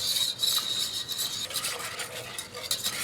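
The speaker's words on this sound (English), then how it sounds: "You can whisk it." A whisk stirs bittersweet chocolate melting into whole milk over a low flame, giving a continuous close, scratchy swishing with quick repeated strokes against the pan.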